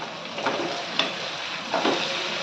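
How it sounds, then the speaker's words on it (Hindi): Drumstick vegetable curry fries in a pan with a steady sizzle, and a few scraping stirs of a spoon come through it up close. "चलिए हम इसको अभी चला लेते हैं।"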